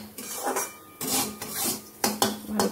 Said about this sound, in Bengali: এবার সুজিটা এর মধ্যে দিয়ে একটু ভেজে নেব।